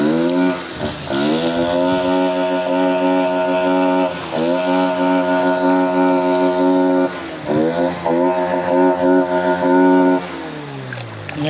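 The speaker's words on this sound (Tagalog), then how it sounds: "Ngayon nagpaingay pa po ng motor." A boat motor revs repeatedly beside clear water, its loud, harmonic whine rising and falling in three sustained bursts with brief dips between them.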